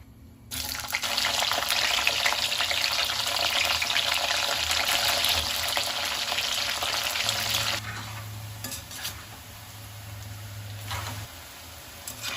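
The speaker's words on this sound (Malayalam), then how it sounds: "കോളിഫ്ലവറും കിഴങ്ങും ഒക്കെ ഒന്ന് വറുത്തെടുക്കണം." Cauliflower and potato pieces deep-frying in oil, a loud dense sizzle that roars for several seconds, then drops to a quieter bubbling with a low hum underneath, no talk.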